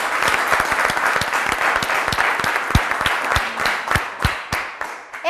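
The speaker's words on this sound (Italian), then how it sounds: "fatevi un applauso" A studio quiz-show audience applauds in a brisk, uneven patter of distinct claps, fairly close and moderately loud, tapering slightly toward the end.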